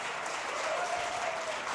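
A church congregation claps steadily throughout, a dense, continuous wash of applause filling the room at moderate level with no talking over it.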